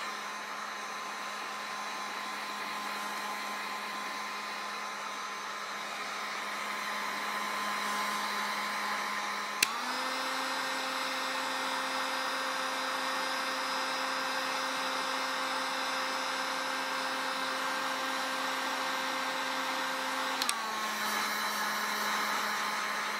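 A hot air gun blows steadily on a PS3 processor during a reflow repair, a loud, continuous whine and rush of air that shifts pitch once as the setting changes, then drops back near the end.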